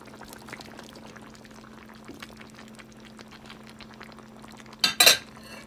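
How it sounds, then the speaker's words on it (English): Vegetables for chicken afritada with broccoli tumble into a quietly bubbling pot in one brief, loud burst of pouring and clattering near the end. "Now it's time to add the veggies"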